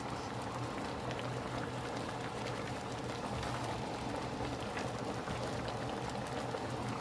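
Hamburger steaks simmer in gravy, a dense, even bubbling and sputtering that holds steady and close, with no voices.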